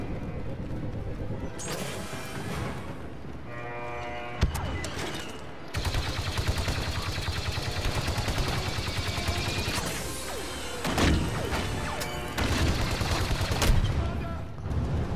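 Sustained blaster and gunfire bursts from Star Wars Battlefront II, with dense repeated shots, crashes and explosions over a busy game soundscape, loud throughout with brief lulls.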